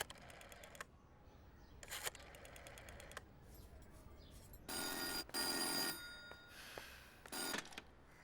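A telephone rings in short, harsh electronic trills separated by pauses, with several bursts, some longer and louder than others, and no voices in between.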